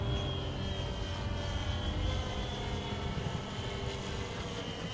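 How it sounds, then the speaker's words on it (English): A competition model plane with contra-rotating propellers flies at the AIAA Design/Build/Fly event, giving a steady, loud droning whine with a sustained high tone throughout, without talk. "those contra-rotating propellers making some very interesting noises"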